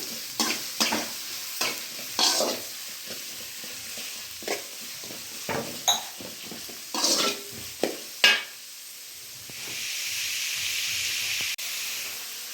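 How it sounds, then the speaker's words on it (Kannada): Cabbage pieces for gobi manchurian fry in hot oil, with a string of sharp stirring scrapes and crackles through the first two thirds, then a steadier hissing sizzle taking over near the end. "ಫ್ರೈ ಮಾಡ್ಕೊಂಬಿಡೋಣ ಚೆನ್ನಾಗಿ ಎಣ್ಣೆನಲ್ಲಿ"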